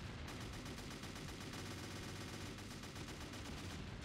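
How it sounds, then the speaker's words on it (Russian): Heavy artillery salvos and gunfire from the war game Crisis roar continuously in a dense, loud barrage with no pauses. "артиллерия за, буквально за три залпа выносит наш танк"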